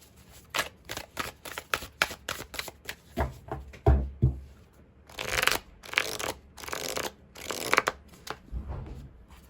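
Tarot cards being shuffled and drawn by hand, a run of quick close riffles and soft snaps in uneven bursts, with longer shuffling flurries toward the end and no talking.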